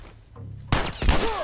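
A headshot gunshot in The Last of Us Remastered video game: two sharp, loud blasts close together after a quiet stretch, each with a ringing tail.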